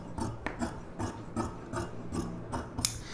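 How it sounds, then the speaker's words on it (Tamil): Scissors cut blouse fabric at close range, producing a quick, regular series of crisp snipping and rasping strokes, several per second and fairly quiet, with no talking. "இப்போ இதை நம்ம அப்படியே கட் பண்ணிக்கலாம்."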